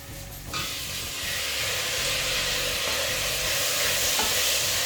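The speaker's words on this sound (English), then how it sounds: "Roast the onions till they are nice and brown." Onions roast in a pan for a Kerala black chana curry, giving a steady, dense sizzle with stirring noises underneath. The sizzle grows slightly louder after the first half second and continues without talk.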